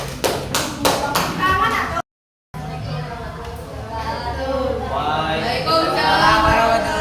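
Scattered hand claps from a small audience ring out as sharp separate taps at the start, then fade into murmuring voices and room chatter after a brief silent gap.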